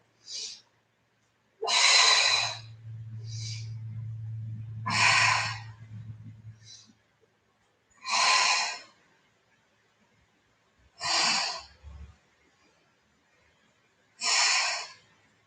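Deliberate breathing during a Pilates exercise, several separate airy inhales and exhales spaced a few seconds apart, close and fairly quiet, with a low hum under part of it.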